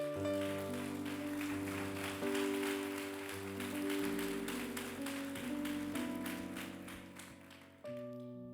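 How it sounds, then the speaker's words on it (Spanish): A church congregation applauding, steady rapid clapping from many hands over sustained organ or keyboard chords, moderately loud and continuous, with no speech. "Dele un aplauso al Señor, hermano."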